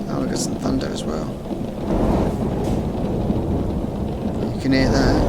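Thunder rumbles low and steady in Euro Truck Simulator while driving through France, a continuous rolling growl with rain hiss and a few faint higher sounds over it.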